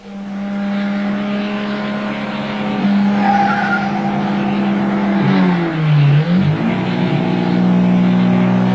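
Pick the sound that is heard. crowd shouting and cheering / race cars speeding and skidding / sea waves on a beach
race cars speeding and skidding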